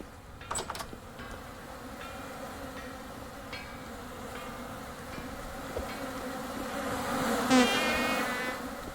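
Angry bees buzz in the video game Vintage Story, a dense, continuous drone close by that swells louder toward the end, with a few clicks and knocks over the top and no talk.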